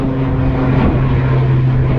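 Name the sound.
airplane taking off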